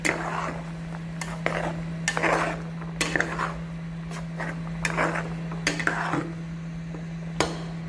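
A spoon scrapes and knocks against a pot while fish curry is stirred, giving a series of close clinks and scrapes in an irregular rhythm over a steady low hum, with no talking.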